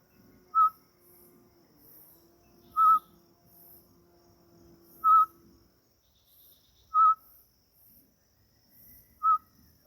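A hand-blown macuco tinamou call whistle with a small stamped hole, sounding five clear, evenly spaced single whistled notes about two seconds apart, close and loud over near silence.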